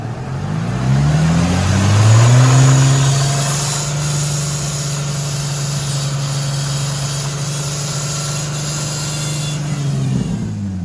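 A broken power steering pump running on a 2004 Infiniti G35 gives a steady low whining drone over the idling engine, briefly rising in pitch early on and then holding level, close and fairly loud.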